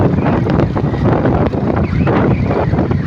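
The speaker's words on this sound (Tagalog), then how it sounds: "Sarap, ang hangin." Strong mountain wind at Daldagon Peak buffets the microphone in a loud, continuous roar with gusty surges throughout, and no voices are heard.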